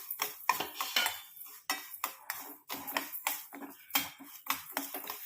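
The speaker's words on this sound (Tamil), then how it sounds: "ஃப்ளேமை குறைச்சி வச்சு நம்ம இதை ஃப்ரை பண்ணி எடுத்துக்கணும்." An ingredient stir-fried in a pan over a low flame, with repeated sharp scrapes and clinks of a utensil against the metal in an irregular, close rhythm, and no talking.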